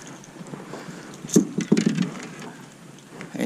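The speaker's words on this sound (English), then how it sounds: "And the weatherman was right. It's raining." Rain pattering on an outdoor fishing spot, a soft steady patter with a few louder bursts of close spattering in the middle, no voices.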